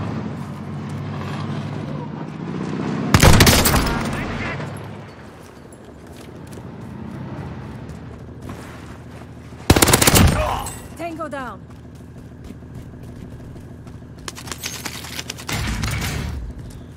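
SMG fire in a video game comes in three short, loud bursts of rapid automatic shots spread over the clip, with quieter game sounds and a voice talking between them.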